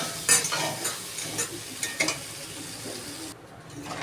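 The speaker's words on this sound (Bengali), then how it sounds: "এবার আমি জল দিয়ে দেবো।" A spice paste for cauliflower and potato curry fries in a pan with a steady sizzle and a few sharp stirring scrapes. Water then goes in, and the hiss turns duller and quieter toward the end. No one speaks.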